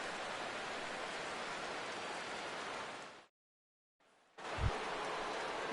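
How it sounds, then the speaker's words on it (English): Steady rain falling on a baseball stadium in MLB The Show 17, a dense, even hiss that cuts out briefly to near silence before resuming with a low thump. "Rain continues to fall here in the 6th."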